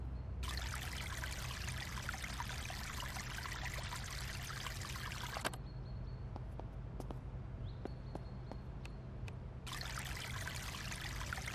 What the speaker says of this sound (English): Apparently the water's still on.